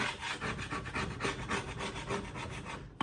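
Paint scraper dragged over a wooden antique display cabinet, lifting old paint in quick repeated rasping strokes, close and fairly quiet, with no voices.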